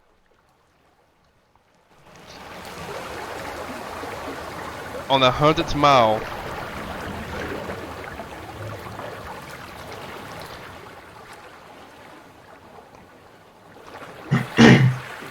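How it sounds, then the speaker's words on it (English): After a moment of silence, a mighty river rushes in as a loud, steady broadband roar, with a voice briefly speaking over the flowing water. "This time the party hears the sound of water."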